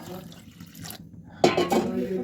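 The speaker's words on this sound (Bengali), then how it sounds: "আর পানি অ্যাড করতে হবে" Water poured into a bowl of two eggs for pitha batter, a short splashing burst near the middle after quieter kitchen clatter.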